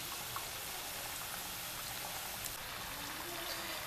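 Pastel de angu frying in hot oil, a dense, steady crackling sizzle like rain, close and constant throughout with no talk.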